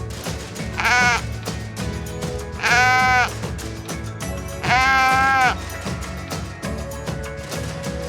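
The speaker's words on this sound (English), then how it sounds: "A sheep says Baba." A sheep bleats loudly three times at a steady pace, each call a long wavering baa, over a soft background of music.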